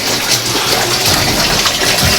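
Water gushes and splashes steadily as it is poured into a pig pen for washing, a close, continuous rushing wash with no talk.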